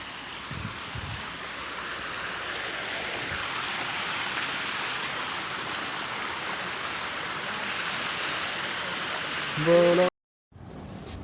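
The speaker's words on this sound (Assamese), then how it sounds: "অকণমানি ইয়াত দেখিছে পাহাৰৰ পৰা পানী পৰি আছে" Mountain water cascading down a hillside near Cherrapunji, a steady broadband rush that holds evenly for about ten seconds, then briefly swells before a sudden gap and a quieter return.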